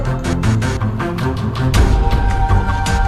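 A steady, rumbling GTA 5 video game car engine drones with a gritty low growl, rising slightly in intensity partway through, with no talking over it.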